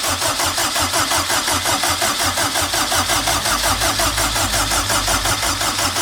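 The twin-turbo engine of a Lamborghini Gallardo with no fuel pressure cranks on the starter without firing, a loud, close, steady rhythmic whirring that continues throughout.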